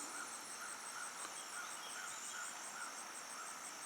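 Faint wild turkey calls repeat in a steady rhythm from a distance, over a constant high outdoor hiss.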